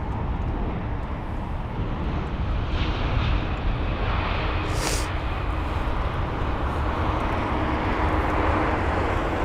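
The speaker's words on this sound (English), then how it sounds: "We've got another A320 this time. It is also the CEO without sharklets though." An Airbus A320ceo airliner without sharklets passes at London Heathrow on a very sunny day, its engines giving a broad, steady roar through the whole stretch, with a brief sharp hiss midway.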